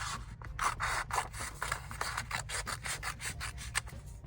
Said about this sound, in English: So I'm going to take scissors, I'm going to cut